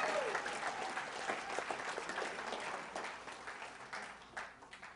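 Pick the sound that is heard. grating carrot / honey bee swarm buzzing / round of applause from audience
round of applause from audience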